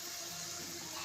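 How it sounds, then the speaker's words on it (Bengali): Coconut rinse water from a mixer jar pours into a pan while cooking a Bengali prawn mendi, a brief, steady, close splashing gush with no talk. "মিক্সিতে নারকেল টারকেল ছিল, সেইগুলোর জল দিয়ে দিচ্ছি ধুয়ে"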